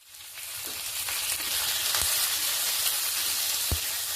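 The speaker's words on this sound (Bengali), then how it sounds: "সেটাকে একটু তেলে ফ্রাই করে নেবো" Two chopped medium tomatoes fry in oil for a radish chutney, a steady close sizzle building after they hit the pan, with a couple of faint clinks of stirring.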